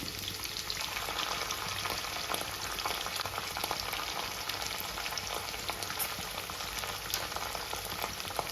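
Chopped onion with ginger-garlic paste frying in a pan over a medium flame, a steady close sizzle with faint stirring scrapes running throughout, no voices.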